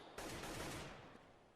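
A single gunshot in a Counter-Strike pro match that took an opponent out with one bullet, a faint sharp burst with a short decaying tail and no talk.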